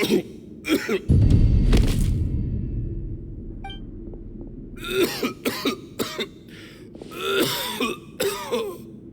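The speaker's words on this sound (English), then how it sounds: "Why is he coughing so much?" A character in Genshin Impact coughs and clears his throat in a series of harsh, close bursts, broken by short pauses and a low rumble.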